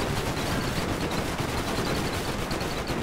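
Dense, continuous automatic gunfire and bullet impacts from an airship battle in the strategy game Airships: Conquer the Skies, a steady loud barrage with no pauses.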